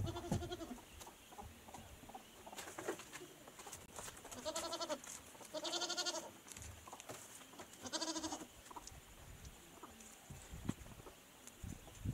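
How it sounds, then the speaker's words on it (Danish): Goats bleat several times from a pen in a village setting, calls coming in repeated bursts over a steady outdoor background, with faint bird sounds mixed in. "Gederne undersøger deres fold og opdager, at de kan slippe ud og søge mad og hilse på andre geder udenfor."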